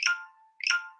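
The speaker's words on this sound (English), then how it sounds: "Sorry about that. That was my phone." A mobile phone ringtone sounds twice, two short bright electronic chimes with a lingering tone between them, close and loud with no talk.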